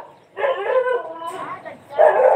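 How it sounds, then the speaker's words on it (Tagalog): Neighbourhood dogs barking and yelping nearby, loud drawn-out barks with a short gap between bursts, rising again at the end. "Maringay kasi ang mga aso."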